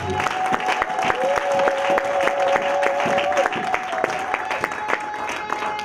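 A church congregation claps and cheers loudly together, a dense rhythmic applause with sharp hand claps and a voice carrying over it on a sustained tone.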